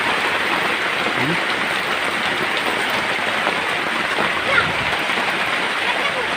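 Steady rain pours down at Caretta Cemetery as a dense, even hiss of drops striking the ground and nearby surfaces, constant and close throughout.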